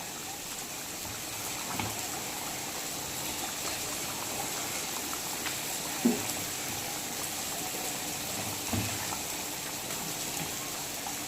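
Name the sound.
pangas fish curry boiling in a covered pot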